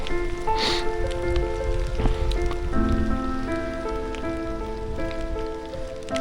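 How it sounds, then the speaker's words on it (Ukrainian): Light autumn rain patters steadily on a surface during a bicycle trip, with scattered drops over a constant hiss and some faint tonal hum in the background. "а воно все одне дощ, дощ невеликий"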